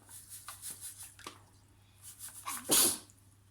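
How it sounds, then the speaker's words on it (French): In a home kitchen while sugar syrup is being made for kalb el louz, a single sharp sneeze bursts out near the end, preceded by soft rustling and breathy sounds over a low steady hum. "Eh, tu t'éternues pas sur le sirop, toi, fais attention quand même."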